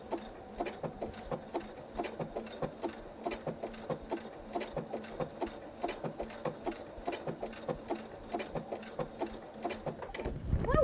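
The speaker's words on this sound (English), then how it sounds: "You want to keep the fabric edge right in the middle of your presser foot." A home sewing machine stitches fabric for pot holders in a steady, rapid whirring rhythm of needle strokes, close and continuous, stopping near the end.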